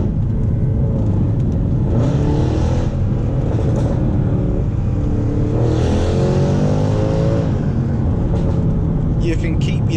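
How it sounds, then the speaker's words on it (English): A 2013 Mercedes C63 V8 revs hard while driving in automatic mode with the sunroof partly open, heard from inside the cabin as a loud, continuous engine roar that climbs in pitch through repeated rising sweeps between gear changes. "This is one of the best sounding V8s ever made."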